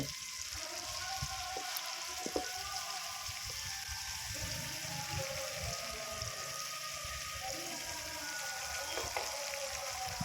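Spice masala paste frying in a pan for a river fish curry, giving a dense continuous sizzle and bubbling with occasional soft utensil knocks, close and even in level, with no talking.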